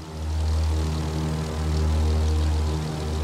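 Steady, loud propeller-plane engine drone with a deep, even hum in The Crew 2 while the aircraft performs a knife flight, slight swells in pitch, no voices.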